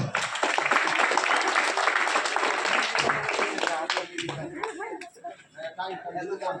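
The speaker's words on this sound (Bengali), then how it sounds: "হাততালি হাততালি না বাবা" Clapping from an audience at an Independence Day community gathering in Bardhaman, a dense burst of hands that thins out toward the end, with voices and crowd chatter mixed in.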